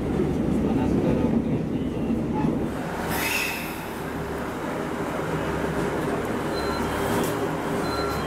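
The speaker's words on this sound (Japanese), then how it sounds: "中央本線に並行して走り、多治見駅の5番線に到着です。" A JR Central Taita Line train rumbles along steadily at close range, its low roar and rattling wheels continuing as it slows into Tajimi Station, with a brief high squeal partway through.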